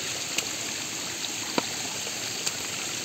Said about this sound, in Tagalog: maganda rin na may tubig na dumadaloy dahil refreshing